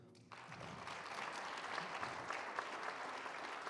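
Steady, full applause from a seated audience at the Rencontres Rabelais 2024 closing thanks. It starts abruptly and continues evenly at a moderate, somewhat distant level.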